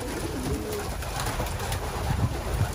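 Racing pigeons coo softly inside a loft with an automatic feeder, a steady murmur of low throaty calls layered together close by, with no voices.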